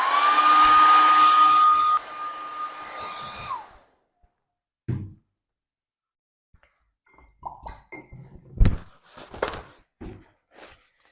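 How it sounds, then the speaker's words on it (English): A hair dryer blowing on acrylic paint gives a loud steady whine and rush for about three seconds, then cuts off. Silence follows, then scattered soft handling noises and brief close sounds. "is the hairdryer, because it gets you working quickly"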